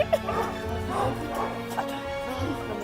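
A dog on a farm gives a few close, loud barks mixed with yips and whimpers in a short burst, with a little talk in the background.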